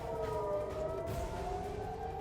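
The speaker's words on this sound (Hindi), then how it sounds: "हर 10 मिनट में लगातार 3 सायरन वहां पर बज रहे हैं" Air raid sirens wail continuously in Israel, a sustained, slowly wavering tone that holds steady and loud throughout, with no voices.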